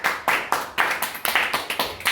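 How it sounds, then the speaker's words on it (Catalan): Claps from a small audience after a school class presentation come in quick, uneven bursts, close and moderately loud, like a handful of people applauding together. "Gràcies, un aplaudiment."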